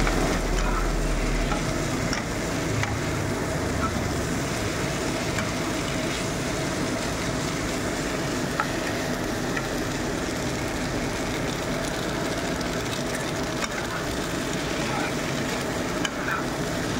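Pasta being stirred as it fries in a pan, a steady, close sizzle with scraping stirs running continuously and no talking.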